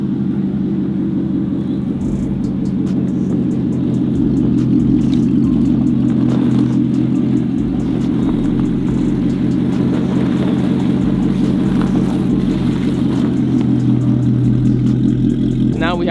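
A Corvette driving along a snowy street in a snowstorm, its engine a steady, close rumble that rises now and then, with voices talking over it.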